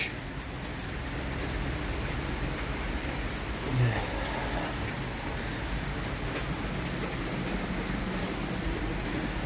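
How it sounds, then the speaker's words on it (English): Rain falling outdoors: a steady, dense hiss of drops that holds unbroken throughout at moderate level, with a brief low thump near the middle. "Don't do that to me, raindrops."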